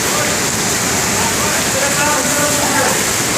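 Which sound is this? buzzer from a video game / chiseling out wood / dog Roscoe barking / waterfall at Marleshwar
waterfall at Marleshwar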